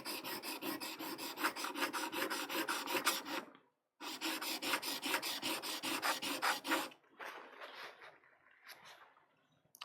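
A printmaking carving tool worked flat side down on a whetstone, giving rapid rhythmic back-and-forth rasping strokes, close and loud, with a brief pause and then softer, slower scraping at the end.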